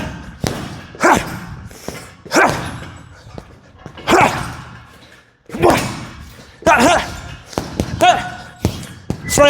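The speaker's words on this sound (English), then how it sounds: "it might sound flipping great when I'm punching this one" Heavy punches land on a boxing bag, a series of deep, loud thuds coming in uneven bursts and close up, with a person's voice heard between the blows.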